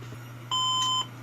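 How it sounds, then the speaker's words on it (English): A single electronic beep from a vintage computer motherboard signaling a RAM error, steady and clear, lasting about half a second over a low constant hum. "I still think the beeping is related to the RAM"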